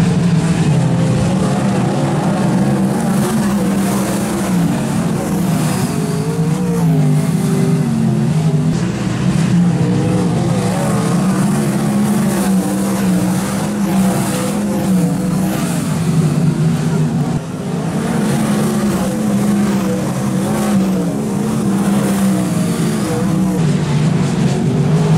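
Race cars in a heat race at Ocean Speedway on championship night, a loud continuous roar of engines revving and accelerating, dense and unbroken, with a dip near the end.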